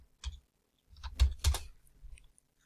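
A few soft keyboard keystrokes clicking in a short cluster, close and quiet, as a search word is typed on a computer keyboard.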